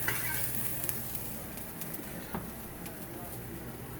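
Onions sizzling in hot oil in a frying pan after sausage has been browned, a steady broadband crackle and hiss held at an even level throughout, with a few small clinks.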